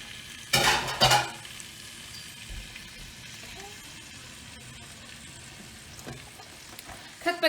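Chicken jambalaya ingredients hit hot oil with a loud burst of sizzling and stirring, then settle into a quieter steady fry with a few utensil clinks.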